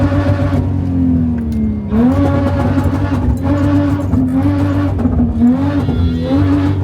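A car drifting across desert sand near Buraidah roars close by, its engine revving up and down in repeated surges with a strained, whining note and no talk.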